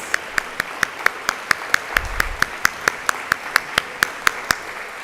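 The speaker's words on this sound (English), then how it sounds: "let's give a hand and a round of applause to our most important partners in the school system" An audience at a school district event claps for parents: sharp, evenly spaced claps in a steady beat, about three per second, clear and fairly close over a faint background murmur.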